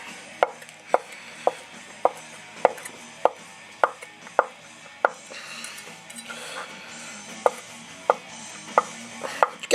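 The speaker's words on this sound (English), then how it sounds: "Then what I'm going to do is just run my knife through it." Cooked chicken with the skin removed is cut into small pieces with a knife, giving a steady run of about fifteen sharp, close chopping knocks against a board, evenly spaced with a short pause midway.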